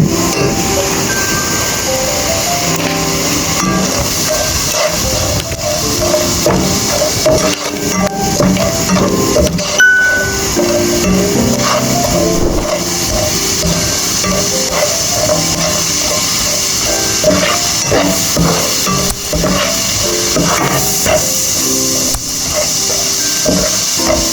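Onion, garlic and cinnamon bark frying in a pan for chicken fried rice, a loud, dense, continuous hiss and sizzle with clattering stirring, close and unbroken throughout.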